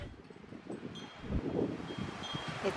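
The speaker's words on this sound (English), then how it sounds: "It's a little extra windy today and it's cold." Wind gusts across an outdoor garden on a cold day, a soft, uneven rushing with faint rustling that swells midway, quiet and steady with no one speaking.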